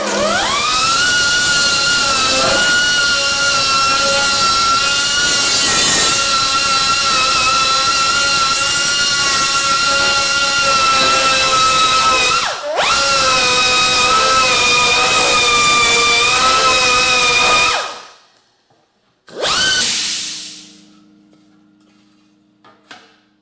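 A power tool grinds through a metal piece for a Yamaha YL1 rear fender, a steady loud whining cut with a brief dip midway, then stopping and spinning down, restarting briefly and fading out.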